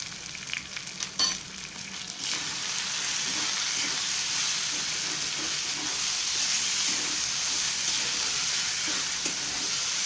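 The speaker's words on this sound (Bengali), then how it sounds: "এবার গ্যাসটা বাড়িয়ে দিয়েছি, সেই জন্যে ঘন ঘন নাড়তে হবে, নয়তো তলাতে ধরে যাবে।" Mutton keema curry fries on high heat in a pan, a loud continuous sizzle. A few scraping stir strokes come near the start, then a steady hiss.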